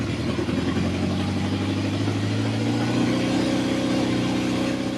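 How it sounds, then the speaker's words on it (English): A 1979 Kawasaki KZ motorcycle engine, just started after sitting for seven months, settles into a steady, close idle with an even low rumble and a slight lift in pitch partway through, no voices. "And let's see if she'll idle. And there you go, she's idling."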